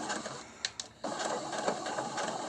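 A sewing machine back tacks over elastic while sewing a fabric mask. It whirs in quick mechanical stitching runs, with a short pause between passes.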